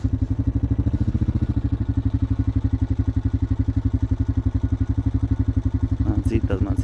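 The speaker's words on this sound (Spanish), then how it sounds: "Aquí está mi moto." A motorcycle engine runs steadily close by, its rapid even low-pitched thrum pulsing without a break, and a brief clatter comes near the end.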